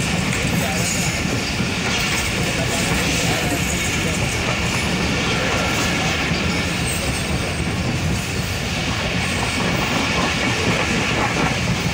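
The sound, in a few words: train running on the tracks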